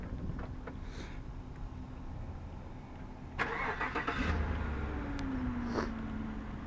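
A 2016 Chevrolet Tahoe 4WD LT engine cranks and catches on remote start, a brief starter whir then a steady idle, heard from outside at moderate level.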